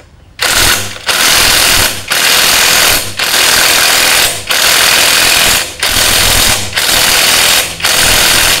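An impact wrench loosening motorcycle crankcase parts during engine teardown, firing in seven loud, rapid hammering bursts of about a second each, separated by brief pauses.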